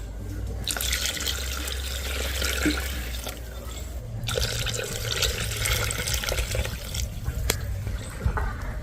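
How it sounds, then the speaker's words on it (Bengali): Water pours into a pot of Bengali bhoger khichuri with rice, dal and vegetables. It comes as two long, steady, close splashing streams separated by a brief pause, over a low background hum. "এবারে পরিমাণ মতো জল দিয়ে দিচ্ছি।"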